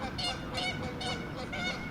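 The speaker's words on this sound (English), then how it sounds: "Those geese in the background?" Several geese honk repeatedly in quick bursts, moderately close, over a steady background hum.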